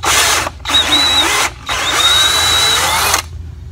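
DeWalt drill cutting into an aluminum hookah fitting, heard as a short burst, a pause, then a longer steady high whine up close before stopping.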